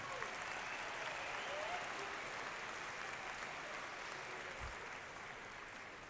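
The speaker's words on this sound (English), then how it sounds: "One more round of applause for the varsity and JV choir." Applause from a crowd at a high school graduation ceremony, honoring the varsity and JV choir, a sustained, even wash of clapping that fades slightly toward the end.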